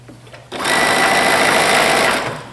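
A sewing machine stitching a pleated blouse runs loud and steady in a continuous close whir, starting abruptly after a short pause and holding for about two seconds.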